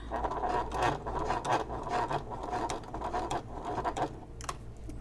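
A sewing machine topstitching a canvas messenger bag over an existing stitch line, a steady close mechanical patter and rubbing rasp running continuously without a break, no voices.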